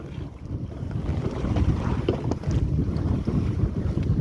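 Strong wind buffets the microphone with a heavy, rumbling roar, steady and close, with no voices, on a fishing trip.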